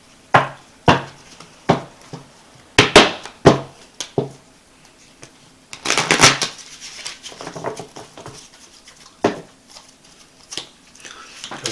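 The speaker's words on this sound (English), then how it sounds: "Let me shuffle these cards again real quick." Tarot cards being shuffled by hand, heard close and alone as a series of sharp, crisp riffling and slapping bursts in an irregular rhythm, with a longer fluttering riffle midway and softer shuffles toward the end.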